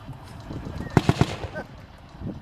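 A tank gun firing at Tankfest in Bovington, three sharp, loud bangs in quick succession in the middle, set against open-air background noise and some voices.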